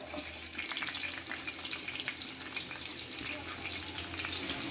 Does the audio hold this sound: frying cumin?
yes